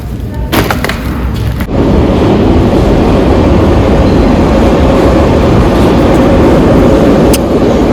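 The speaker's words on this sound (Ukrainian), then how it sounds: "Я вже в метро." Steady loud rumble and rolling roar inside a moving metro train, after a brief clatter at the start, running continuously with no talk.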